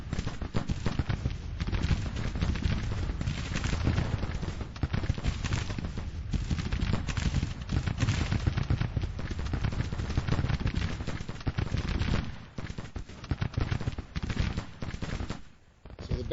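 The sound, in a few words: artillery and gunfire in Grand Tactician Civil War video game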